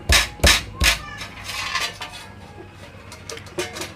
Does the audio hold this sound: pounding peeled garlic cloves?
yes